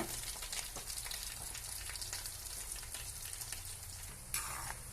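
Herbal oil simmers on low heat after green herbs go in, bubbling and frothing up with a dense, steady crackling sizzle that holds close and even throughout, with one brief sharper burst near the end.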